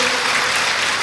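An audience applauds the director of an oncology centre, a loud, steady stretch of dense clapping.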